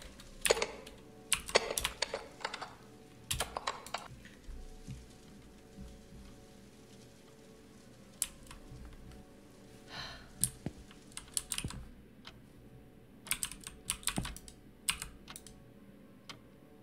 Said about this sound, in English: He's on the keyboard.